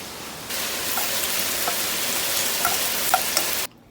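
Olive oil sizzling in a frying pan, a steady loud hiss with small crackles and pops that starts abruptly and cuts off sharply near the end.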